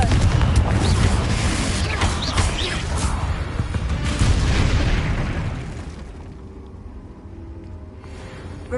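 In Hogwarts Legacy, a Confringo spell detonates with a loud, rumbling blast that stays dense and heavy for several seconds, then fades to a quieter hum and settles.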